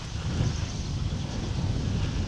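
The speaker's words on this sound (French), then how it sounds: "il y a vraiment un vent très très fort" Strong headwind gusting across an open golf course, a steady low roar of wind buffeting the microphone throughout, loud and unbroken with no voices.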